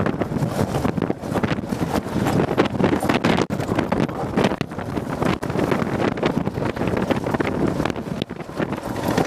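Wind roars steadily and loudly across the microphone while riding a KLR 650 motorcycle through the Organ Mountains, a constant buffeting rush with no clear voice over it.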